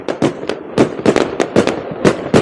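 Repeated New Year firework explosions near the sea in Norway pop and crack at an uneven, quick pace, a dozen or so sharp bursts fairly near, with no talking.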